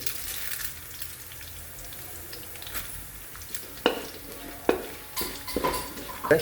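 Chillies and lentils fry in hot oil for poha, Uttar Karnataka style, with a soft continuous sizzle and sharp stirring scrapes and clinks of a spoon against the pan.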